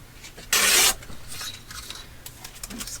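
A brief, loud rasping cut or scrape while paper ephemera has its edge trimmed, about a third of a second long, followed by quieter handling rustles.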